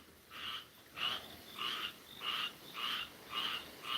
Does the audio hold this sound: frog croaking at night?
yes